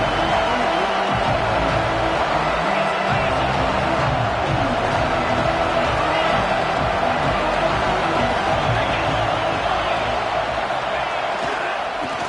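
Football stadium crowd noise from a college game, Alabama versus Georgia, builds as a constant loud roar of cheering late in the game, with commentary likely heard over it.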